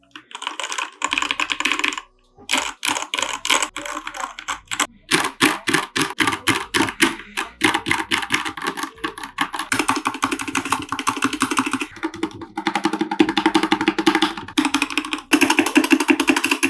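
Rapid typing on a mechanical keyboard with lubed Gateron Yellow switches and PBT keycaps, a dense, close stream of clacks in bursts and pauses, with one brief gap and a slightly louder, fuller stretch toward the end.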